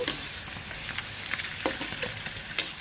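White tube fryums made from sago and rice flour are frying in hot oil, giving a steady close sizzle and crackle with small pops scattered throughout and no voices.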